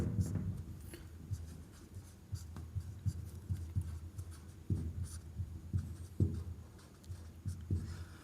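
Numbers are written by hand, with a quick series of short scratchy strokes in irregular bursts. The strokes are fairly close but quiet, with no talking.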